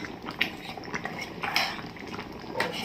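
Pots, pans and cutlery clink and scrape in a kitchen while dinner is cooked, with irregular metallic knocks and stirring clatter close by, no talking.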